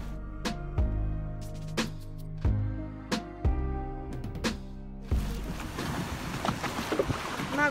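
An inflatable motorboat running at sea off the Sardinian coast, hull slapping waves in repeated thumps amid wind and splashing water, ending in a rushing wash of spray and wind.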